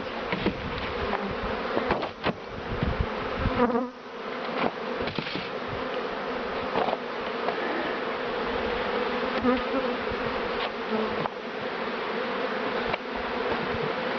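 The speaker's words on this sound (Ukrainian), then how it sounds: "і бджоли, що лишилися у вулику" Continuous dense buzzing of many bees around a hive during transfer to new hives, close and steady throughout, with occasional louder passes near the microphone.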